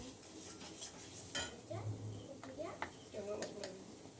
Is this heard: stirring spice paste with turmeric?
yes